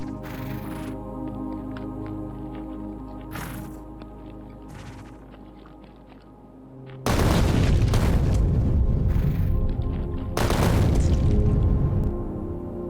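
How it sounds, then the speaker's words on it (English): Artillery shells in the factory-building game Factorio burst one after another as loud, deep booms over steady background music, with a heavy rumbling stretch in the second half. "I love artillery."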